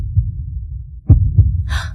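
A low, thudding double heartbeat sound effect, two deep beats in close succession over a muffled rumbling bed, followed by a short breathy gasp-like burst.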